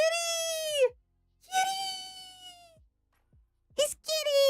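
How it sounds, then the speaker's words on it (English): Cat giving a series of long, loud, drawn-out meows, close by: two sustained wails separated by a pause, then a brief gap before two more sharp cries, with no voice over them. "Look at the kitty."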